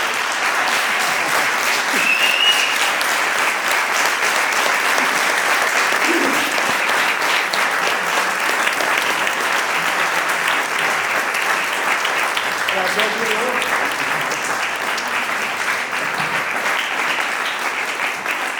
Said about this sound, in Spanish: Yo le voy a pedir al público que os aplauda.